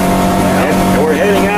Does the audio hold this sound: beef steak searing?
no